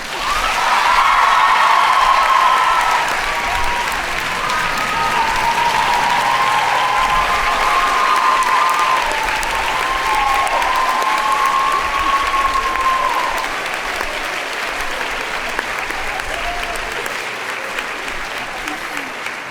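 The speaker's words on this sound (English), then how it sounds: "It's my belief he now deserves a roaring applause." Roaring applause honours a faculty member at a recognition ceremony, a loud sustained wash of clapping from a large audience that gradually eases toward the end, with faint voices mixed in.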